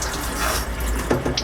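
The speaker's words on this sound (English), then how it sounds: "now all that's left to do is really add some cold water" Cold water runs from a sanitized fill hose into a winemaking vessel, a steady close rush of filling liquid with a few brief splashy bursts near the end.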